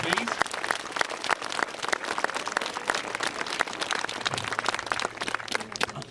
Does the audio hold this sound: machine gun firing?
no